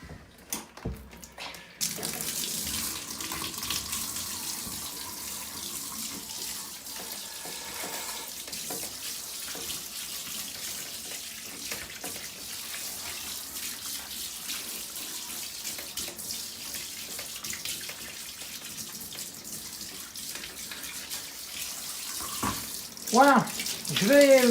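Running tap water pours steadily over a motherboard from a Schneider CPC664 computer, a loud continuous rushing stream that lasts the whole time and briefly shifts near the end as the board is moved.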